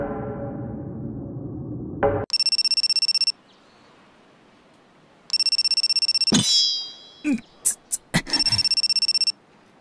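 A phone ringtone sounds in loud, bright, steady bursts, then stops and restarts, with a few sharp electronic chirps between the rings and a fading rumble before it begins.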